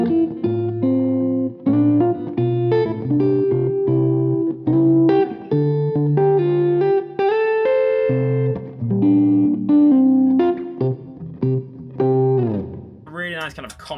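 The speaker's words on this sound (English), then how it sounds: "I'm just going to mess with the tone control a little bit just to see what a jazz sound would sound like on this guitar." A Bonamassa Skinnerburst electric guitar with its tone control rolled back for a mellow jazz sound plays clean chords and melodic runs with light reverb, loud and close, ending in a brief higher flourish.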